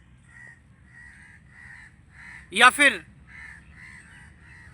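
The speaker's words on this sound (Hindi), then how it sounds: "बैकग्राउंड में जो एक कौवे चिल्ला रहे हैं" Crows caw repeatedly at a distance in an outdoor spot, one louder, nearer burst of two harsh caws rising above the rest, while someone talks over them.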